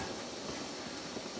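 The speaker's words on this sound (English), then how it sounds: "It is sizzling a little bit." Birch wood that is not fully seasoned sizzles and hisses as it burns outdoors, a faint, continuous airy crackle-free hiss with no voices.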